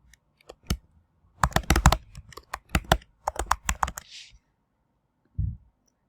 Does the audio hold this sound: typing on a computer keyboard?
yes